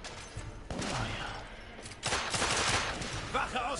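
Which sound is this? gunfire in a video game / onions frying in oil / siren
gunfire in a video game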